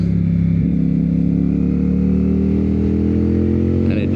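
A 2024 CFMOTO 450SS motorcycle pulls out of a tight turn held in 4th gear, its engine a steady, loud, close drone whose pitch climbs slowly as it accelerates, with wind rush throughout.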